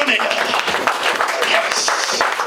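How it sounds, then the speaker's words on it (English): An audience at a bar magic show in Plymouth applauds after a trick, a short stretch of dense clapping mixed with chatter and voices. "Give her a big round of applause."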